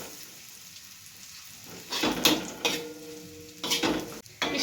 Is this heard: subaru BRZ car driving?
no